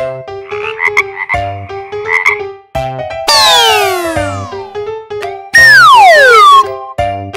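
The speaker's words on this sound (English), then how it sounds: "frog." A frog croaks in a series of close, pulsing calls with short gaps between them, interrupted by two long whistling sweeps.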